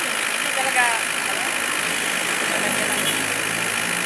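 A Toyota RAV4 engine idles with a steady broadband hum and low drone, moderately close and continuous throughout, with faint voices in the background.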